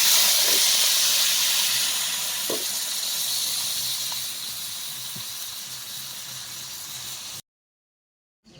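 Loud, steady hiss of water poured into a hot pan of curry with fried potatoes and green banana, sizzling continuously for about seven seconds before cutting off abruptly to silence.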